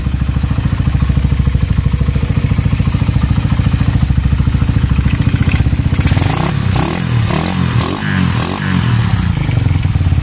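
A 2010 new-breed Suzuki Raider 150 motorcycle, recently refreshed and louder, idles with a loud, rapid, steady engine pulse, then shifts into choppier, uneven revving with rattly clatter for the last few seconds, close by.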